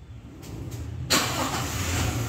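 A Toyota Hilux 4x4 engine is cranked by the starter and fires, jumping from a low hum into a loud, steady running roar close by.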